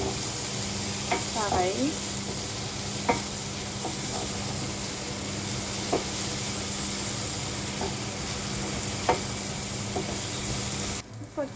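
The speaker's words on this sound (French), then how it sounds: "On met les oignons et l'ail. On laisse revenir." Onions and garlic sauté in a pan with a soft, constant sizzle, broken by a few sharp clicks and scrapes from stirring, while a voice speaks briefly now and then.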